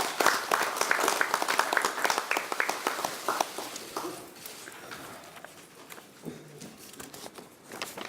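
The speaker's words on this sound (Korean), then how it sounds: "자축의 박수를 한번 쳐볼까요?" A room at a Democratic Party supreme council meeting breaks into self-congratulatory applause, a burst of close, brisk clapping that is loud at first, then thins out and tapers to scattered claps.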